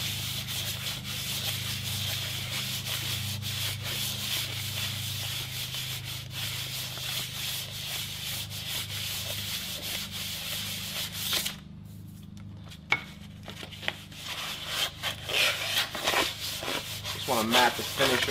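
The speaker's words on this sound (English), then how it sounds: "we're just gonna hit it with some 400 grit" Metal on a bender is rubbed by hand with 400 grit sandpaper in steady back-and-forth strokes, close and moderately loud, with a brief pause and a few knocks before sanding resumes.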